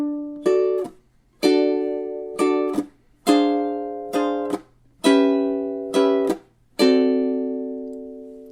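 Ukulele strums blues chords in short, evenly spaced bursts, eight strikes ringing and decaying in a steady rhythm, played close and alone with no talking.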